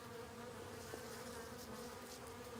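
Honeybees from a package being installed into a hive fill the air with a steady, dense buzzing hum, close and continuous throughout with no talking.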